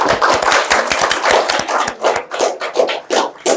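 Applause from a small audience at a meditation talk: distinct, close hand claps in an uneven rhythm, with separate claps easy to pick out rather than a dense wash.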